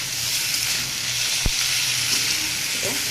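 Gourd leaf fritters and potato frying in a pan of oil: a steady, close hiss and crackle of sizzling throughout, with a single sharp tap partway through and no talk.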